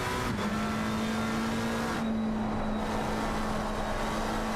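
Race car accelerating at Watkins Glen in a racing video game, a sustained loud engine drone holding a steady pitch with a quick dip and recovery, close and continuous.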